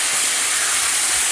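Sauce hitting a smoking-hot stir-fry pan with peppers and onions: a loud, close, continuous sizzle and hiss throughout, no talking.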